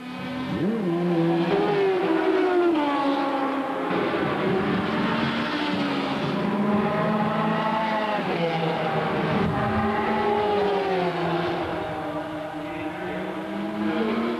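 Suzuki racing motorcycles at the 1985 Le Mans 24 Hours, engines screaming loud and steady with rising and falling revs as machines circulate, a dense continuous roar throughout.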